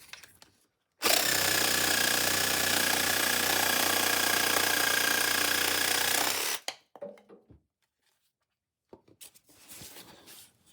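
An Einhell TC-JS 18-volt cordless jigsaw cuts a curving, squiggly line through a workpiece, giving a loud, steady buzzing whine for about five seconds before stopping, followed by a few brief handling clatters and a short burst of noise near the end.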